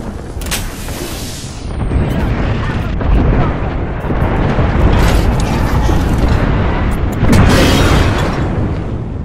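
Gibraltar's ultimate airstrike pounding the ground in Apex Legends, a dense run of booming explosions rolling continuously for several seconds, loud and layered with bursts swelling near the end over faint game chatter.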